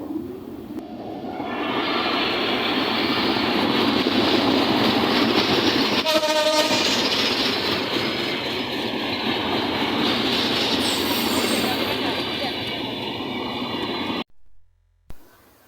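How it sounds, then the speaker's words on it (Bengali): A train approaches along a railway line, its loud continuous rumble and wheel noise filling the scene with a brief horn blast partway through, then cutting off near the end. "ওই যে দেখা যাচ্ছে ট্রেন আসতেছে"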